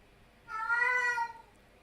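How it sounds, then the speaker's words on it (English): A house cat gives a single clear, drawn-out meow, close and fairly soft, against a quiet background. "No, you can hear my cat again."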